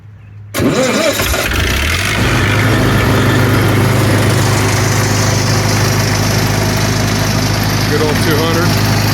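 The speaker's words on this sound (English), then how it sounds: "let's fire this bad boy up" A Lincoln SA-200 welder's engine cranks briefly and catches after a short silence, then settles into a steady, loud, close idle with a continuous rumbling drone.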